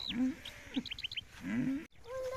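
Low moos and lowing calls from a few cows nearby in a quiet cattle shed, with scattered chirping bird calls overhead.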